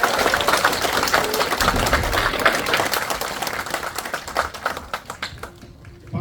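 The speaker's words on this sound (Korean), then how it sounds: "박수 부탁드립니다." A crowd at a formal ceremony and book launch applauds in a dense, continuous patter that stays loud before thinning out and fading near the end.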